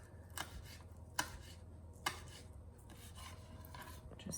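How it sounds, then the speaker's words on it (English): Knife chopping a bunch of fresh herbs on a board for stuffed peppers, with a few crisp, sharp chops standing out over quieter repeated cutting and scraping, no voices. "bunch it again, and chop it up"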